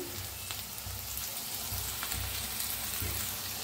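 Onion, green chili, crushed garlic and peanuts sizzle in a hot pan, a dense continuous crackle with faint stirring scrapes, close by.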